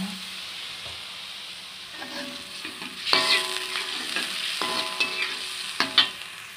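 Water hits a hot pan of stir-fried tempeh, anchovies and petai, and a steady loud hiss and crackling sizzle swells with bursts of bubbling, close up and without talk.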